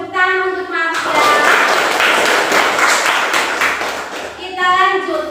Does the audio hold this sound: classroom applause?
yes